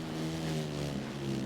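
A two-stroke dirt bike engine in MX vs ATV Legends holds a steady buzzing drone, close and loud, with strong low harmonics and no voices for a brief moment.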